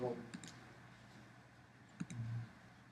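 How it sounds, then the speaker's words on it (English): Computer mouse clicks on a calendar field in a software form, a couple of light, close clicks separated by a pause, over faint room noise. "So click on the little calendar"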